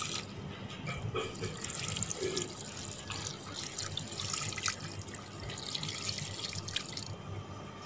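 Water being poured into a wok of beef with onion, garlic, tomato, ginger and spices for a beef and chana dal curry, a steady splashing, dripping pour close by that continues for several seconds with no talking.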